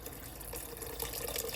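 Water pouring from a tap into a pot of rice being prepared for Guyanese vegetable rice, a steady close splashing fill that runs without pause, with no talk.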